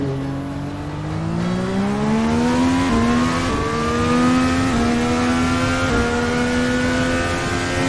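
A Formula NA 2021 Indy car accelerating in a racing video game, its engine note climbing steadily through several upshifts as a loud, close, continuous whine with brief dips at each gear change.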